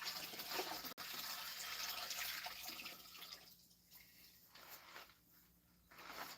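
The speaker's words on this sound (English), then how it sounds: "I'm going to dump some of this water out." Water dumped out of a bucket while panning paydirt for concentrates, a steady splashing pour that runs for several seconds before tapering into quieter gaps and a final gush.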